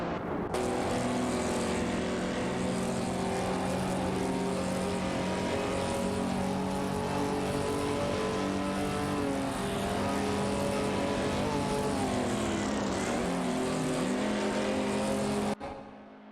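Race cars in a racing video game run close together on a track, with a loud, steady engine drone and sustained harmonic whine that holds throughout and dips briefly near the end before cutting off.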